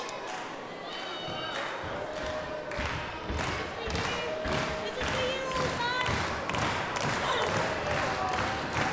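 A wrestler drops her body weight onto an opponent's back during a women's championship match, with dull thuds under a steady roar of crowd noise and a commentator's voice.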